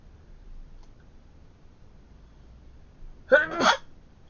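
A single sharp sneeze bursts out near the end after a few seconds of near silence, close and abrupt.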